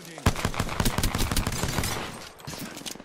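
Rapid bursts of gunfire from the video game Apex Legends, a dense run of sharp repeated shots close and loud, easing off slightly near the end.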